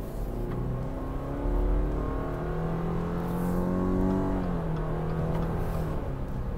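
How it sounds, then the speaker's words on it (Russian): A 2022 Subaru Forester with a 2.5-litre engine accelerating at full throttle, its steady engine drone rising in pitch as revs climb, a gear change and a second climb, heard from inside the cabin with no talk. "Полное ускорение."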